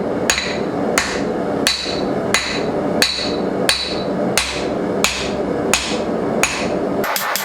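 Hammer forging a steel froe blade at the edge of an anvil: eleven evenly spaced, ringing metallic blows strike at a steady rhythm, loud and close, with a quick flurry of lighter taps at the end.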